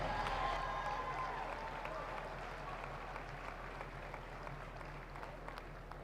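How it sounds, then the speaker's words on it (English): A gym crowd at a 2016 high school boys basketball game applauds the senior cheerleaders, a steady, moderately distant wash of clapping and crowd noise that gradually eases, with a faint voice over it. "Let's give one more round of applause for our 2016 seniors on the Shawnee Mission North cheerleading"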